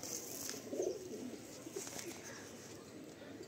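Fulsira Madrasi pigeons give soft, low cooing, fairly faint against a steady background hiss, with a slightly fuller burst of coos near the start.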